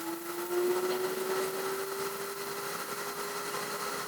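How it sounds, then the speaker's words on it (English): A blender grinds dried moringa leaves into powder, a steady, loud motor whine that rises slightly in pitch at the start and then holds, with a gritty rushing hiss from the powder tumbling in the full jar. "the blender is getting pretty full"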